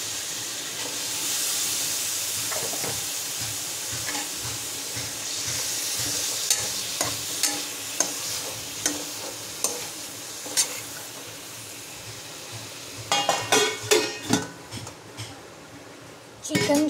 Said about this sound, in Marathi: चिकन शिजतंय बारीक फ्लेमवर